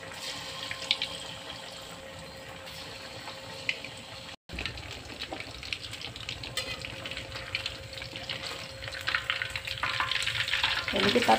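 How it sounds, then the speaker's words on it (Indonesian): Chicken frying in a pan gives a steady, crackling sizzle that grows louder and busier toward the end, with a brief cut partway through. "Sementara kita akan goreng ayamnya dulu ya."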